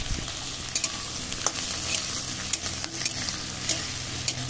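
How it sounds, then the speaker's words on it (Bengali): Okra, added after softened onions, fries in a pan with a steady close sizzle while a spoon stirs it, with intermittent scraping clicks against the pan and no voices. "ভেন্ডিটি খুব ভালো করে নেড়ে দেবো।"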